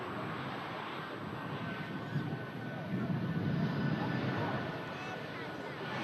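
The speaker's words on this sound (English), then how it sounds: "A lovely touchdown there from the Air Transat." An Air Transat airliner arriving from Toronto touches down, its engines rumbling at a distance under a steady broadband roar that swells midway. Light wind noise runs throughout.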